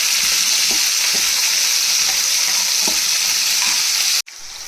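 Star fruit pieces frying lightly in a pan for gojju, a loud, steady, close sizzle with faint occasional stirring taps that cuts off abruptly near the end, then a quieter hiss resumes.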